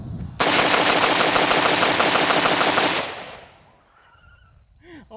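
A Zastava M90 rifle fires one sustained full-auto burst, a dense rapid string of loud shots lasting under three seconds, then echo decays and faint voices follow.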